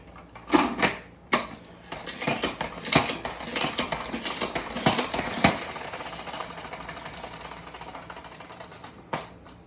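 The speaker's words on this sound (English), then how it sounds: "now it's time to spin it really quickly" A salad spinner whirls washed lettuce with a fast, rattling, ratcheting clatter. Sharp clicks from the pump handle repeat over a continuous mechanical whir that fades out toward the end.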